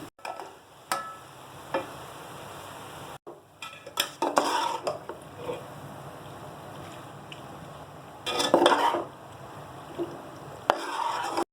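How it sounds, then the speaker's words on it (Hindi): Macaroni tumbles into a pan and gets stirred, with scattered scraping clinks of a spoon against metal, intermittent bursts over a quiet background. "अब इसके अंदर मैं मैक्रोनी ऐड कर दूंगी।"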